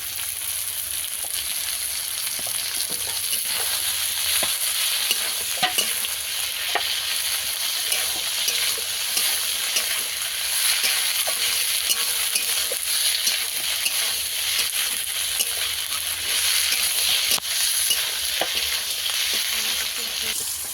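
Tomatoes and potatoes fry together in a pan, giving a continuous close sizzle with scattered spatula clinks and stirring scrapes throughout and no talking.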